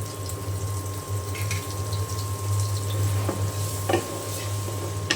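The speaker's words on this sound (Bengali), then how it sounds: "এখন মশলা খুব ভালো করে আমি তেলের সাথে কষিয়ে নেব।" Ground spices fry in hot oil for a prawn curry with pointed gourd and potato: chili, coriander, ginger, garlic and cumin paste. A close, bubbling sizzle mixes with scraping stirs over a faint steady hum, and nobody speaks.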